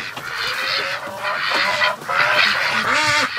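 Several Muscovy ducks give hoarse, breathy calls and soft honks close by, overlapping in short bursts.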